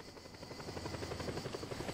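A video game helicopter flies nearby with fast rhythmic rotor chopping over a low engine hum, steady and moderately loud throughout.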